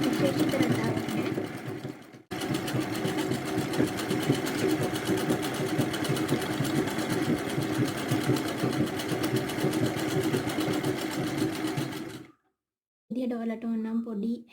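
Embroidery sewing machine stitching on a scrap of fabric, a fast continuous mechanical whirring rattle close by, briefly pausing near the start, then stopping, followed by a voice talking.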